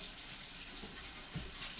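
Tap water runs through a trumpet to rinse toothpaste out of the valves, a faint, steady splashing flow with no voices.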